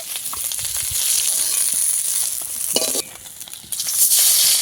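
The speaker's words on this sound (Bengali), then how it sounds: "মাছগুলো ভেজে নিলেই আমার সব মাছ ভাজা হয়ে যাবে" Pieces of fish frying in hot oil in a pan for a fish curry with potato and cauliflower, a steady bright sizzle with occasional stirring and scraping, close and continuous.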